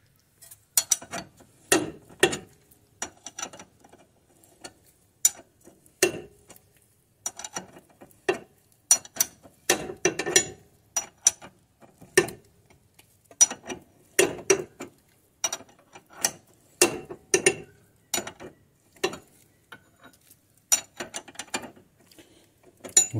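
A hand ratchet clicks in repeated short bursts while tightening a tie rod end nut on a 2000 Toyota Camry, close and crisp, with brief pauses between strokes throughout.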